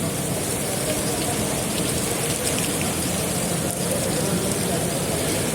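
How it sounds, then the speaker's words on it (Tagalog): Heavy rain pours down steadily in a dense, loud hiss during a storm in the UAE, with faint low rumbles of thunder beneath the downpour. "Grabe yung kulog at kidlat."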